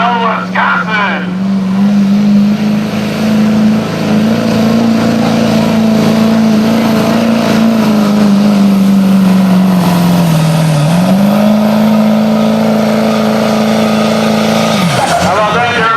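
A 2003 Duramax diesel farm truck from Galesville, Wisconsin revs loudly and steadily at a truck pull, its engine note holding a sustained drone that rises and dips before cutting off near the end, with crowd noise behind.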